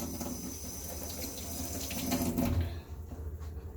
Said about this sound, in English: Wash the spoon, then I gotta drop it.